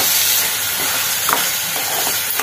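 Ivy gourd sautés in a pan with rock salt, giving a steady sizzling hiss with a few soft stirring scrapes, close and continuous without talk.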